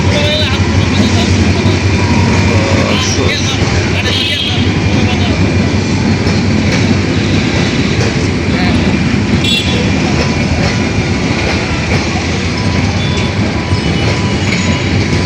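A passenger train bound from Chattogram to Dhaka rumbles past close by, a loud steady roar with clattering wheels and occasional squeals, continuous throughout with faint talk beneath.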